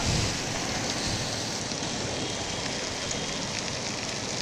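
Sudden unseasonal rain on a city street in Amravati, steady and dense, hissing continuously over a surface, fairly loud and even throughout, with no voices.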